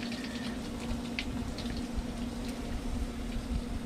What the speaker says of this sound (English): Turn this water off, it ain't so loud.